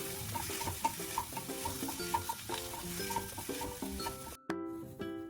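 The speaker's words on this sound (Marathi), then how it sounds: "चार मिडियम आकाराचे कांदे आपण भाजून घेणार आहोत." Four medium onions roast in a pan, a quiet steady sizzle broken by soft regular stirring clinks, with background music playing throughout.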